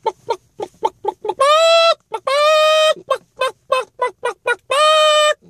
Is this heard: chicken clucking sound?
yes